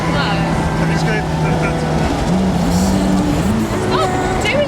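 Ferrari engine note rising and falling through downshifts while driving, a loud nearby engine with shifting pitch steps and blips, people talking over it.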